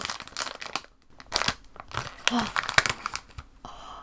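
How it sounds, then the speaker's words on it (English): Loud, close crinkling and rustling of a blind box's plastic bag being handled and torn open, in irregular bursts, with a voice briefly heard. "These bags are so loud."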